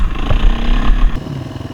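Husqvarna dirt bike engine on a trail ride: a brief, close, rough engine burble with a low throbbing note that drops off sharply near the end, with no talk.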